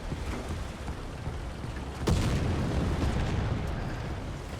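Artillery shell slamming into a tank in War Thunder: a sudden heavy impact crack about two seconds in, followed by a sustained roaring rumble over a constant low battlefield drone.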